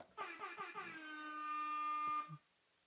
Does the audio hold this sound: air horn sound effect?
yes